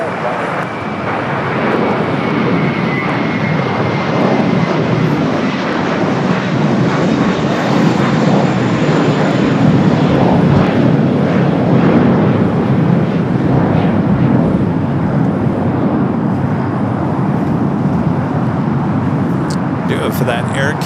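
A loud, steady roar of an Alaska Airlines Boeing 737-800 jet engine fills the whole stretch at LAX, continuous and near, with some road traffic mixed in underneath.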